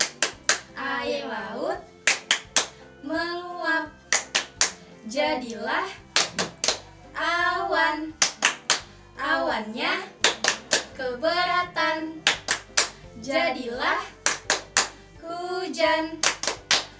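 Children's rain clapping game played at home: sharp rhythmic hand claps punctuate a sung chant about rain, landing in regular bursts between and alongside the voices.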